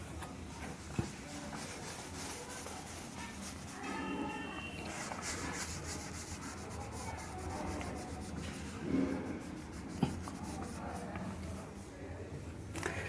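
Marker or pen scratching and rubbing on a board while a divisibility-by-11 concept is written out, an irregular run of soft strokes and scrapes spread across the whole stretch with a few sharper taps, fairly faint.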